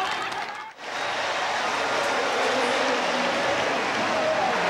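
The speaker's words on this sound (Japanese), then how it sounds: "今大きな歓声に迎えられまして、国立競技場のトラックに戻ってまいりました" A stadium crowd roars in a broad, steady wash of cheering as a marathon runner enters the National Stadium in Tokyo at the 1991 World Athletics Championships, with a brief dip near the start before the noise swells and holds loud.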